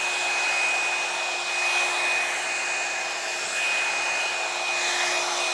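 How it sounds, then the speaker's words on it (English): A Revlon one-step hair dryer blows steadily and loudly the whole time, a constant airy roar with a thin whine running through it. "Do you have the Revlon one-step hair dryer?"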